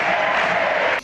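Podemos deputies stand in parliament and applaud, making a dense, close burst of clapping and crowd noise that cuts off abruptly after about a second.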